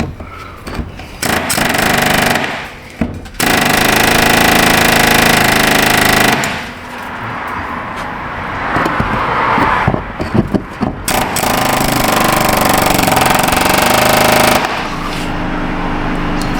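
Air hammer driving a sharp chisel against the metal lock ring of a fuel tank on a 2016 GMC Sierra, loud harsh rapid hammering in long sustained bursts separated by short pauses, close and alone.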